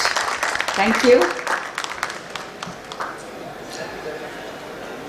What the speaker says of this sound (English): Come on, we can have those claps, please.